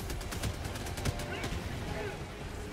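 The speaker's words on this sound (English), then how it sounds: "Oh, I still have my grenade launcher." A grenade launcher fires among other gunfire in the video game Helldivers 2, a dense, continuous clatter of rapid shots and blasts with no voices heard.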